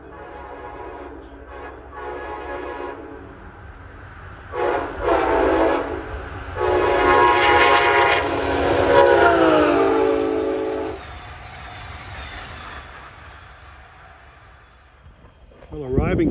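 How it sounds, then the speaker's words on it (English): Amtrak train 650, eastbound from Harrisburg to New York, races toward the listener sounding its horn in several long blasts, the roar building and then fading, with someone talking over it. "approaching fast eastbound at 12:58 is train 650, en route from Harrisburg to New York"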